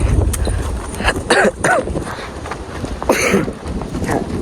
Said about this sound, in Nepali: अहिले पुरै हावाहुरी चलिरहेको छ क्या